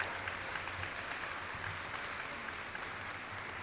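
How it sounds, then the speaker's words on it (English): Steady, warm applause from a large crowd at a university welcoming torchlight ceremony, continuous and even throughout with no talk over it. "let's give Logan a warm round of applause for those words of"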